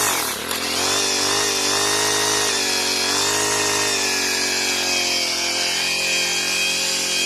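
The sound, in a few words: 4-stroke weed eater engine running on alcohol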